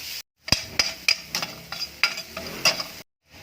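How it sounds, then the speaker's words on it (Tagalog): Minced garlic cooks in butter in a pan while a utensil stirs, giving a soft sizzle broken by sharp metallic scrapes and taps in a close, uneven rhythm. "Butter mo natin yung ating garlic. Bawang."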